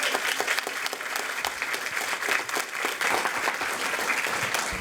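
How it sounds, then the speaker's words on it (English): Sustained, dense applause from an audience at a school board of trustees meeting honoring students, steady and fairly loud throughout with no break. "join me one last time in recognizing these remarkable young men and women with a well-deserved round of applause"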